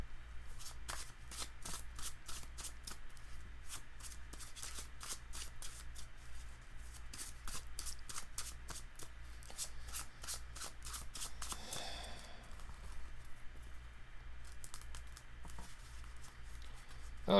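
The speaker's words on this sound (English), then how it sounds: "doing some quick shuffles" A deck of Magic: The Gathering cards is shuffled quickly and repeatedly close by, a long run of rapid riffling bursts with a brief pause near the end and no speech.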